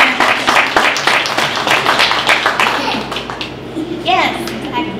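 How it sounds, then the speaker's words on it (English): An audience in a room at a cultural center applauds its mentors with a burst of hand clapping that thins out and fades toward the end, with voices chattering beneath it. "if we all want to give like a round of applause for our mentors"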